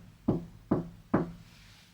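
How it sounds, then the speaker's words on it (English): Three loud, close knocks on a hard surface, evenly spaced about half a second apart, each with a dull thud and short decay, then quiet. "Would you be able to make a knocking noise?"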